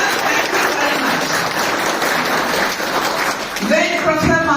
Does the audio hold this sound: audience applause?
yes